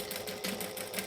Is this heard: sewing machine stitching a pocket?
yes